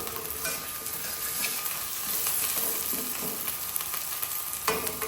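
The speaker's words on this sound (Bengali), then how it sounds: "পেঁয়াজটাকে একটু ভাজা ভাজা করে নিতে হবে" Salted onions sizzle steadily in a hot pan, a close crackling hiss with occasional stirring scrapes and no voices.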